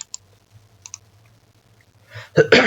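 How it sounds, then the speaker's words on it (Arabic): A computer mouse clicks during structural design software work, with two quick double clicks standing out in near silence. A person begins speaking at the end. "كليك يمين"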